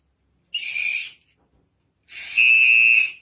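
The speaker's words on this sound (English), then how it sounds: "the samba whistle." Two sharp blasts from a samba whistle, a short shrill burst followed after a pause by a longer, piercing trill-like blow, loud and close with silence between.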